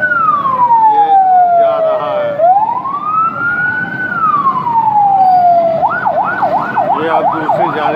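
An ambulance siren in city traffic on the road to Civil Hospital, Karachi, loud and close, sweeping slowly up and down in long wails before switching to a rapid yelp.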